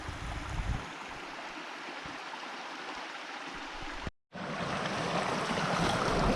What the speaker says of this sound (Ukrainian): От потічок, який тече.